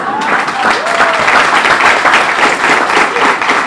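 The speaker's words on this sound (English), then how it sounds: "Now, I want the adults to clap for the students now." Adults applauding students at a water facility event, a full, sustained round of clapping from a crowd, with some voices mixed in beneath it.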